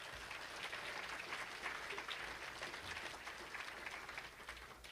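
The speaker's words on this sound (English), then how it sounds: "and now for the applause" A crowd at a school's 25th anniversary celebration applauds in unison, a steady, even wash of clapping heard faintly and from a distance throughout.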